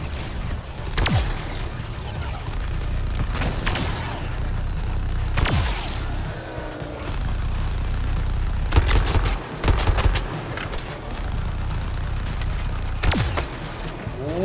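Gunfire from shooting in the Suicide Squad video game: loud, repeated sharp gun blasts spaced irregularly over a dense rumbling battle backdrop, with clustered rapid shots near the middle and a final crack toward the end.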